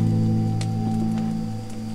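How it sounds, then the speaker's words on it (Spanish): Rain falls steadily on an outdoor film set built for a historical production about Artigas and La Redota, making a continuous close wash of hiss over a constant low hum, with no one talking. "con esta lluvia que cae ahora"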